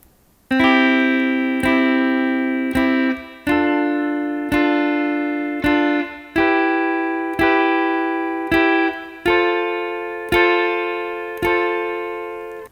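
Electric guitar chord struck about ten times at a steady pace, each ringing and decaying briefly before the next strum, with a bright, sustained tone and no voices.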